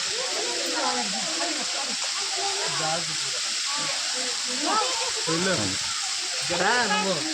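Natural water flows steadily at a hillside temple with a constant bright hiss, while someone talks over it throughout.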